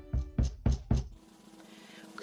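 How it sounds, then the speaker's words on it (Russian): Four firm knocks on a wooden door, evenly spaced and close, followed by a quiet room tone with no talking. "Они подошли и постучали в дверь."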